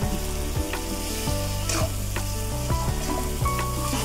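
Fried potatoes sautéed in a pan for paneer dal, a steady close frying sizzle with scraping stirs and occasional clinks of a spatula against the pan, no talking.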